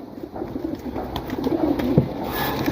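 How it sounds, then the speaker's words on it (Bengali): A male pigeon coos close by in low, throaty repeated calls over a soft, continuous background murmur. "এটা হচ্ছে নর এটা পাঠা কবুতর"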